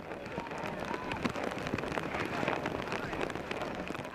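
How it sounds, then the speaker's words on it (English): Heavy rain pours down on a women's college soccer match between Florida Atlantic and Miami, a dense, steady hiss of drops filling the air throughout, with a commentator's voice faintly mixed in. "Rain is hard and heavy"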